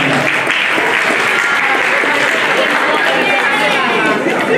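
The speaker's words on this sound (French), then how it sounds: "Applaudissez-la quand même, applaudissez-la" Children's quiz-show audience in Paris applauding a young contestant, a dense, loud, steady wash of clapping hands that holds for the full stretch, with crowd voices mixed in beneath it.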